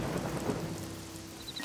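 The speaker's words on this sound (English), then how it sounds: "Snow Black sought shelter from the storm" A cartoon thunderstorm effect plays alone: steady heavy rain pattering on surfaces with a low rumble of thunder underneath, fairly loud and continuous.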